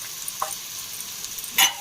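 Grated ginger and garlic frying with onions in a pan for a chicken dish, a soft steady sizzle with a couple of brief stirring scrapes, the last one louder, no talk.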